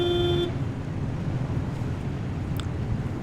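A car horn in the Pacific Drive video game sounds one short toot at the start, over a steady low rumble of engine and road noise.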